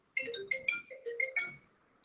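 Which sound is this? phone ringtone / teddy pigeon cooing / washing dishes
phone ringtone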